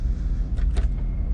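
Landing gear of an A320 retracting just after takeoff, heard from the cockpit as a short whirring, clunking burst rising briefly over a constant low engine and airflow rumble.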